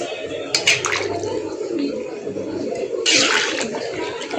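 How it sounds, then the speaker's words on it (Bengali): Water pours into a pan of Bengali-style chicken curry on the stove, a steady splashing wash with a louder gush near the end, close and fairly loud. "এখন আমি জল দিয়ে দিছি।"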